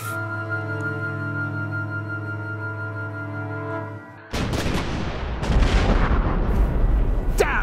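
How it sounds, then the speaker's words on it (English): A giant overhead explosion in a war scene: a steady droning hum is cut by a sudden heavy blast, followed by loud rumbling, crackling booms that keep building, close and overwhelming. "Damn, that was a giant explosion right over our heads."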